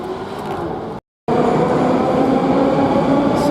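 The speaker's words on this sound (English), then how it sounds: "So this is the metro station attached to the Belorusky Vokzal" Loud, steady rumble of a Moscow metro train running underground near Belorussky railway station, broken by a brief cut before the roar resumes, with no talking.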